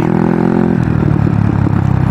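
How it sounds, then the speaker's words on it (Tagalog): A Rusi Passion motorcycle with a GY6 engine and 13/40 final gear, ridden at low revs, runs steadily with a rattling, clattery drone, close and continuous throughout, no voices. "sana naririnig nyo yung RPM natin at yung speed ng motor."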